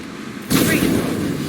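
Gunfire in the Mass Effect 2 Legendary Edition video game: a sudden loud burst of shots, close and sustained, with game effects beneath.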